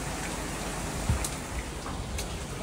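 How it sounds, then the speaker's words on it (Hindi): Heavy rain falls steadily outside as an even, dense hiss with no pauses, plus a soft thud or two of drops nearby, and no voices. "मैं बाहर निकल के देख रहा हूँ, मेरे को बारिश आ रही है बहुत तेज"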